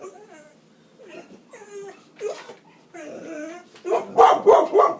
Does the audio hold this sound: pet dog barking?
yes